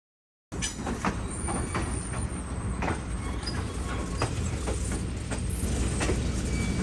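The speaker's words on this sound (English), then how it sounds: "Two engines uncoupled and made their way around to the back of the train to couple up with the last car" A scenic excursion train rolls along the tracks near Copperhill, Tennessee, producing a steady rumble with rhythmic clacks and clunks from the wheels and cars and a faint high squeal at times, continuous and moderately close.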